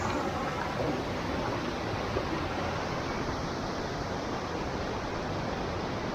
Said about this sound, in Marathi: काळी तर दगड आहे पूर्ण काता काता वाहतोय धबधबा